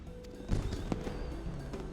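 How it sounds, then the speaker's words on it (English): Fireworks go off during an in-game festival, a handful of soft, distant pops and crackles scattered irregularly across a quiet background. "Oh, they're pretty close here, the fireworks."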